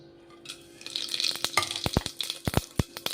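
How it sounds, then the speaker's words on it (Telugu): Whole spices like cloves, cardamom, cinnamon and caraway hit hot oil for a goat trotters shorba, starting with a rising sizzle followed by sharp crackles and pops, close and clear. "ఆయిల్ వేడవుతుంది దీంట్లోకి కొన్ని మసాలాలు యాడ్ చేద్దామండి"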